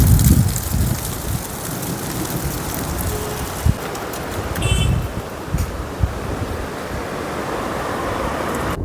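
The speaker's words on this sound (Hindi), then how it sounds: "एकदम से इतनी तेज हवा चलने लग गई है" Strong wind gusts roar steadily across Chopta valley, a continuous close rush with occasional buffeting bumps and faint rustling, and no voices.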